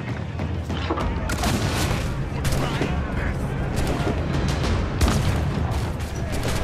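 A swivel gun on a pirate ship in Assassin's Creed IV Black Flag, booming repeatedly in loud, close bursts over a constant roar of naval battle, with a voice speaking in places.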